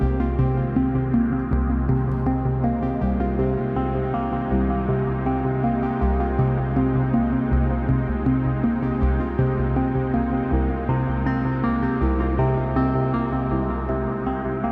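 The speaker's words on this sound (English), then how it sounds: "What you hear right now is the Zero Coast from Make Noise" A steady, droning sequence from a Make Noise Zero Coast synthesizer, with dense low tones and a repeating pattern, playing continuously and fairly loud with no voices.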